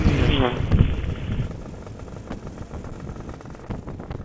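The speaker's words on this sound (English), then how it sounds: "ride up at really low revs in top gear to give you an idea of how much torque it's got" A GT300LC motorcycle engine, brand new and still running in, lugging at very low revs in top gear while climbing a hill, a low rumble with wind buffeting on the microphone, no voices.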